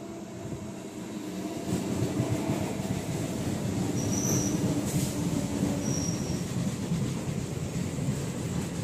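Train arriving at a station after a crossing at Basirhat, a steady loud rumble of wheels on rail building up with faint high squeals, no talking.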